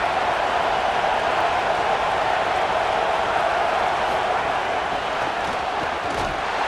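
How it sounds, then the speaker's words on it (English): Loud home crowd roaring in an EA Sports College Football 27 game, a dense, steady wall of cheering noise that holds at full volume throughout with no break. "how nice is it to have the home crowd going absolutely bananas"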